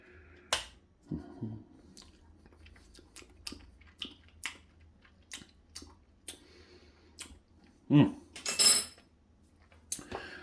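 Metal spoon clinking against a dish while tasting a surimi preparation with tomato: a series of sharp, separate taps and scrapes in a quiet kitchen, with a louder clatter cluster near the end.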